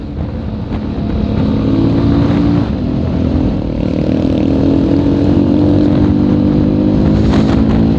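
A loud, close motorcycle engine drones and revs continuously during an off-road ride in Kapan, with a strong, even roar throughout. No speech is heard.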